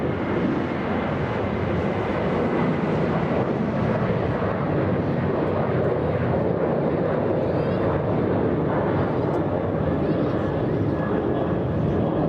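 An Aeromexico Boeing 737 MAX 9 jet at LAX airport gives off a steady, broad engine roar that holds at an even level throughout, while someone talks over it.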